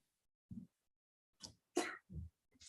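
A sneeze in a city council meeting room, a short sharp burst standing out from near silence among a few other brief throat sounds, heard up close with no talk around it.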